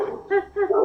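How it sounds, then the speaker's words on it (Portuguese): A pet dog at home gives two close, loud yelping barks with a whiny edge, in quick succession, with no talk over them. "minha cachorra aqui disparou, vocês estão ouvindo ela?"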